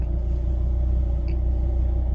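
A Fiat Coupe 20vt engine idles just after starting, a steady low rumble that stays even and close throughout, with no talk.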